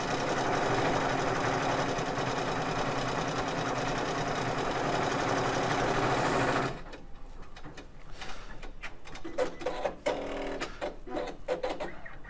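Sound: embroidery machine stitching

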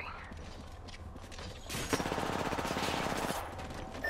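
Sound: gunfire in the video game Apex Legends

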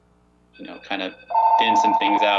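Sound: telephone ringing

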